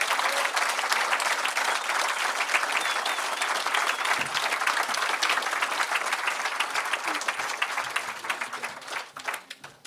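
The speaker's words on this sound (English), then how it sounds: "I would really like you to give them a warm round of applause" A large audience at a wildlife trust annual general meeting bursts into a long, dense round of applause, loud and sustained before thinning out toward the end.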